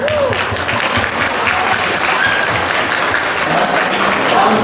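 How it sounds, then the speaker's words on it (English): Loud, steady clapping from an audience at a school chemistry class presentation, continuous and close throughout, with a few voices faintly mixed in. "let us hear another big round of applause"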